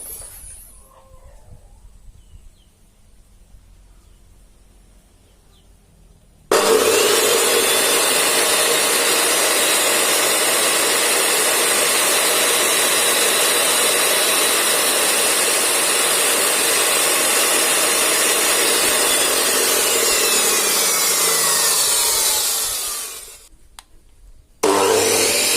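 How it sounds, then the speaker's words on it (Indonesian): Two cut-off machines, a Kyuho KO 360 and a Makita, running without load. After a few seconds of quiet, a loud, steady motor whine starts abruptly, holds for about seventeen seconds, then winds down. "Selanjutnya kita tes putaran dan daya tanpa beban kedua cut off ini."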